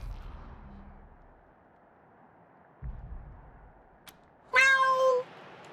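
A single loud, close cat meow in the video game Wasteland 3 comes near the end, after a quiet stretch with low rumbles and a sharp click.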